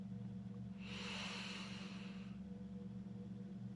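A single slow, deep inhalation, a soft airy rush lasting about a second and a half, sits faintly over a steady low electrical hum in a quiet room.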